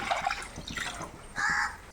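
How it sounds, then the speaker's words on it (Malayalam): Thin coconut milk, the third extract, is poured into a pressure cooker holding washed split green gram, a short liquid splash and trickle heard up close in a home kitchen. "മൂന്നാം പാല് നമുക്ക് ഇതിലേക്ക് ഒഴിക്കാം"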